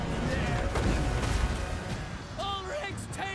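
Artillery cannon fire in a Total War Warhammer II battle, a dense rumbling barrage of booms and crashes filling the first two seconds, then fading under battle noise and tonal calls, with voices talking over it.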